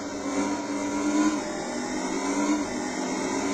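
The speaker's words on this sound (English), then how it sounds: "Rising level of engine revolutions, engine revs." A car engine revving in the Riding Spirits 2 racing video game, from the vintage 1980s class: a steady, droning engine tone that rises and holds at high revs, with no pauses.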